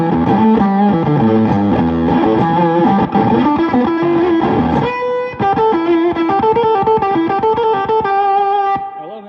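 Electric guitar played through a gated fuzz pedal, giving a loud, clipped, choppy distorted tone with notes cut off sharply and sliding between pitches, a dense run of bent lines in the first half, then sparser chopped notes.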